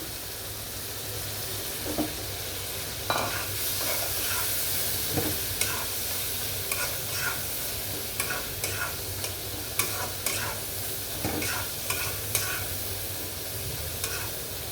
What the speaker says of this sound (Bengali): চাপা শুটকি ভালো করে কষিয়ে নিলে আমি আলু বেগুনটি দিয়ে দেব।